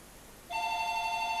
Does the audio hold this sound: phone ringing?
yes